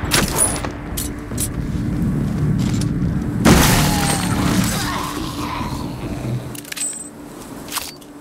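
A loud shotgun blast booms out in the Arizona Sunshine 2 video game, followed by a long decaying rumble, with scattered clanks and clicks from the game before and after.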